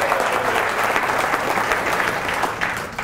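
Loud audience applause erupts at a touchdown club luncheon speech, a dense, even wash of many people clapping throughout, tapering only slightly toward the end.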